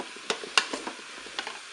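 Courgettes browning in a Cookeo multicooker, stirred with a few light scrapes and taps over a faint, quiet sizzle, all close and soft.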